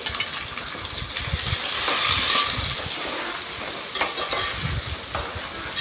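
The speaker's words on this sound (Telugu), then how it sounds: "ఉల్లిగడ్డ పచ్చిమిర్చి మంచిగా నూనెలో ఉడకాలండి" Two medium onions and four or five green chillies, sliced thin and long, fry in hot oil for a chicken handi. A dense, close sizzle with crackling stirring runs continuously and steadily.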